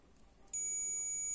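A multimeter set to its buzzer/diode continuity range lets out a single steady, piercing electronic beep that starts abruptly partway through and holds without a break, close and alone.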